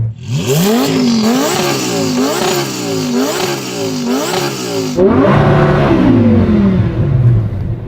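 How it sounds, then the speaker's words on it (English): A loud 5.2-litre V10 Lamborghini Huracan engine revs hard several times in quick rising bursts, then settles into a deeper, rougher roar; close and no talking. "what we'll do before we race is to rev up our engine"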